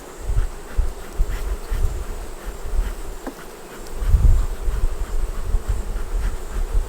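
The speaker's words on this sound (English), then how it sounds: "You see that bee trying to get me? No, she's not trying to get you. She's just flying." A honey bee flies close by at a beekeeper's hive, its steady loud buzz droning throughout with slight swells as it moves, no voices.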